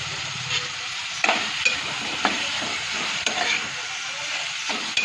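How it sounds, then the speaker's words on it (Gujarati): Finely chopped onion and spices frying in a pan for ivy gourd and onion saag: a steady close sizzle with sharp scraping stir strokes every second or so, no voices. "મસ્ત શેકાઈ જાય ને ડુંગળી એટલે મસાલો શેકી કાઢું."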